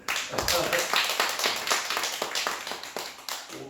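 Church congregation clapping together after a scripture reading, a rhythmic run of claps at fairly even pace, close and moderately loud throughout.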